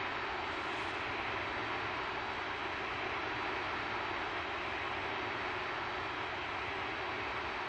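MD-80 airliner engines in the Prepar3D flight simulator give a steady, even jet drone in the cockpit at high altitude, a continuous broadband roar with no talking.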